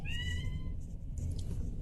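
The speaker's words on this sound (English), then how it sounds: "And then a cat walked through." A cat meows while walking through a room, a single clear drawn-out meow at the start that fades, followed by a fainter trailing cry over a low steady background rumble.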